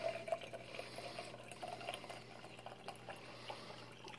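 Vodka poured to fill a container, a steady liquid trickle and gurgle running several seconds under a constant low hum, with no voices.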